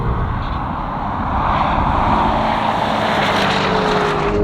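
A Lamborghini Urus or Aston Martin DBX engine roars steadily during a drag race, heard as a loud sustained rushing drone with a slight rise in pitch, with no voices.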